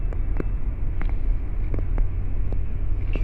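A car cruises along a rural road through rolling Amish country hills, a steady low engine and tire rumble with faint repeated ticks and thumps from the road surface, no talk.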